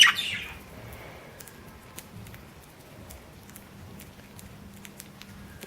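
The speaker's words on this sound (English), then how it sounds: "This budgie is a male green budgie" A male green budgie gives scattered short chirps and faint tweets indoors, quiet and intermittent, with soft rustling and a brief louder burst at the start.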